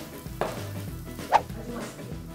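Allspice toasting in a pan for chestnut rice pilaf gives a low sizzle under two short scraping stirs, close and brief, with no talking.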